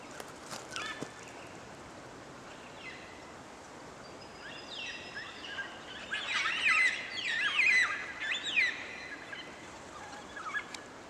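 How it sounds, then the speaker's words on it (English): A flock of cockatoos near Waroona screeches harshly in a burst of overlapping calls in the middle stretch, over steady outdoor background noise with a few scattered calls before and after. "lots of cockatoos on this. But they're noisy and they're here."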